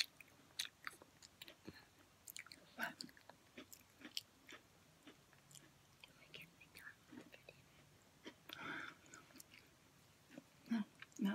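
Close, quiet crunching and chewing of Town House Flipsides Parmesan Herb pretzel crackers, irregular crisp bites with soft whispered talk in between.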